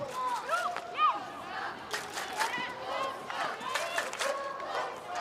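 A stadium crowd at a Poland vs Italy match roars, shouts and chants in a dense, continuous wall of noise, with whistles and cries rising above it and a commentator's voice faintly mixed in.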